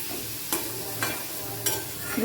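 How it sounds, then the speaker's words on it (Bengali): Potatoes being stirred into spice masala in a pan, soft sizzling under several distinct scraping stir strokes, spaced roughly half a second apart, close and fairly quiet. "আলুগুলো সব কটা দিয়ে দিলাম দেখো বন্ধুরা একটু নেড়ে চেড়ে মশলাটার ওপর"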